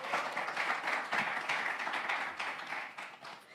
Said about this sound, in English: let's give a round of applause for our panelists